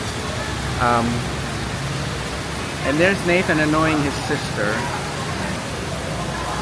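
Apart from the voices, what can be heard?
tropical torrential rain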